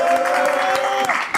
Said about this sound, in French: Tu peux y aller, applaudissez-le, s'il vous plaît.